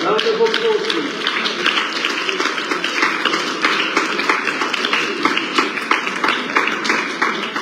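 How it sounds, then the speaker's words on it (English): Audience applause at a book launch for an award presenter, a steady wash of many hands clapping at close range, with crowd voices mixed in, sustained throughout. "Round of applause, please."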